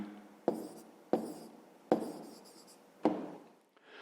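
A pen writes by hand on paper during a fifth-grade math exercise, with four crisp, sharp strokes at regular intervals, each trailing off quietly, close and fairly soft.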